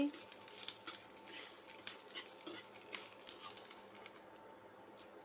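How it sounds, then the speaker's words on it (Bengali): Ginger paste fries with capsicum in a pan, giving a faint steady sizzle with occasional soft stirring taps and scrapes. "আমি 1 চামচের মতো আদা বাটা দিয়ে একটু ভাজছি"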